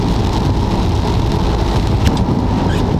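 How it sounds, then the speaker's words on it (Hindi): Heavy rain pouring down steadily, a dense, loud, unbroken hiss with a rumbling low end, close and constant throughout without any talk. "अच्छी खासी हो रही है बारिश"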